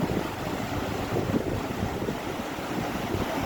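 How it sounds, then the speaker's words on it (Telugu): A continuous broad rush of surplus water from Gundla lake flowing over a weir, steady and fairly loud, mixed with wind buffeting the microphone. "ఆ బియర్ మీదకి ఫ్లో అయిపోయి ఇలా వస్తున్నాయి అన్నమాట"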